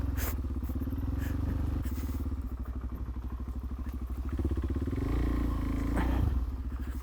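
A Suzuki DRZ motorcycle engine chugs steadily and close while greenlaning, with a low throbbing idle and brief revs and clunks, with no talking.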